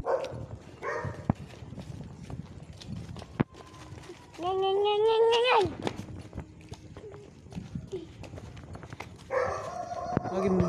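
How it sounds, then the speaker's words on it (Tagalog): Several dogs bark outdoors, with some nearby yelps and a sustained whining, howling stretch mixed among scattered barks, heard under frequent conversation and background movement. "maraming aso."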